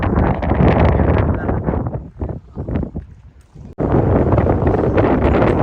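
Strong wind buffets the microphone in a loud, continuous roar that dips and gusts unevenly midway before surging back at full force.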